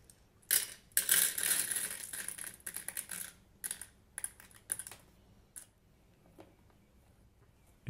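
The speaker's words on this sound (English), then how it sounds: "You can start turning the bingo machine. And it releases one like this." A bingo machine cage turned by hand, releasing a plastic bingo ball: a rapid clatter of tumbling balls and plastic clicks, then scattered sparser taps and rattles, close and moderately loud with no talk.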